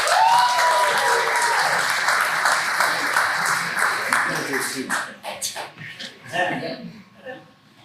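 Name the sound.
audience applause at a graduation show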